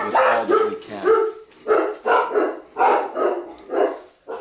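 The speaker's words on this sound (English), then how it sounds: "Dogs." Several dogs bark loudly and close by, a series of repeated woofs and yips in uneven bursts with brief pauses between them.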